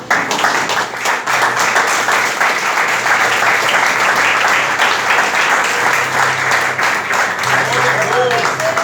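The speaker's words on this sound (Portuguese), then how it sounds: "desocupa as tuas mãos e aplauda os céus bem forte" A church congregation at a youth congress applauding loudly, a dense, sustained roar of many hands clapping that fills the space for several seconds without pause.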